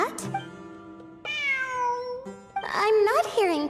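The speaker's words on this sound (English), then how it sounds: "It really is a cat." Cat meowing inside the video game Genshin Impact: two clear, drawn-out meows with rising and falling pitch, close and loud over a steady musical backdrop, separated by a short pause.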